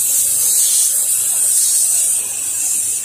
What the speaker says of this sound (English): And I just spray it and forget it.